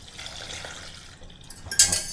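White wine and chicken stock poured into a cooking pot make a soft, continuous liquid trickle that swells into a louder splash near the end, heard alone without talk.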